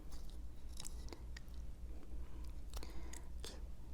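Close, steady chewing and soft crunching as someone eats pork bone potato stew (gamjatang) with rice, meat and broth, wet bites repeating in an uneven rhythm with no talk.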